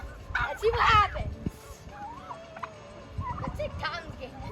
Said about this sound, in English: Looks like we have a fight going on between turkey and rooster.